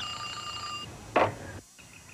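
A telephone bell gives one short, bright ring over a steady background hum, then the sound drops away to near quiet.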